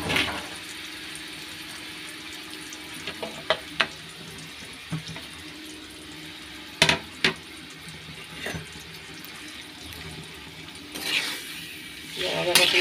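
Meat marinated in plenty of oil is dropped into a hot pan and fries, giving a faint, steady sizzle dotted with scattered pops and crackles.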